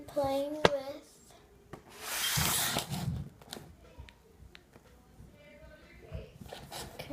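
Hands work kinetic sand close by, making soft rubbing, squishing and grainy scraping sounds, loudest in one sustained patch, while someone talks over it.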